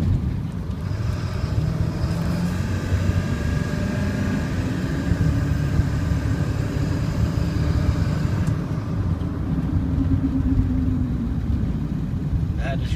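A 2000 Ford F250 Lariat 4x4 with the 7.3 diesel runs steadily, giving a low continuous rumble with some wind noise over the microphone throughout.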